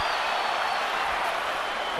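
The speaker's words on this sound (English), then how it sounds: "Crowd is warming up" Spectators at the Cotto vs Margarito boxing rematch in an arena make a dense, steady roar of crowd noise that stays broad and even throughout, with no distinct voices standing out.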